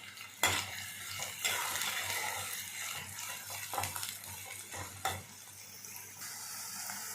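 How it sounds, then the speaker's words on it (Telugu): Thinly sliced onions and green chillies fry in hot oil, a soft steady sizzle underneath clattering utensil scrapes and stirring knocks against the pan, heard close with no voices. "నూనె అయితే కాగింది. ఎర్రగడ్డలు వేసేసాం."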